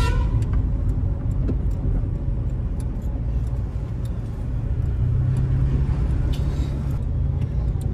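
Slow-moving road traffic on the Delhi Dehradun Expressway: a steady, loud rumble of car and bus engines close by, with faint horn toots and brief brake hisses throughout.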